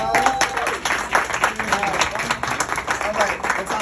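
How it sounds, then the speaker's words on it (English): An audience claps and cheers at a live gathering, a dense, steady wash of hand claps mixed with raised, whooping voices throughout. "Clap it up for all of us."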